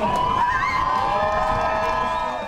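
A crowd cheers at a white marlin fishing tournament weigh-in. The sustained roar of shouts and whoops sounds fairly loud and continuous throughout.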